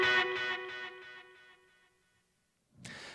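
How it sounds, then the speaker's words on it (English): Overdriven electric guitar lead through a Kemper profiling amplifier with a 67 Pro Verb profile, boost, reverb and delay: several picked notes ring and decay into a fading tail, then a short burst of noise at the end. "I am playing through my Kemper profiling amplifier."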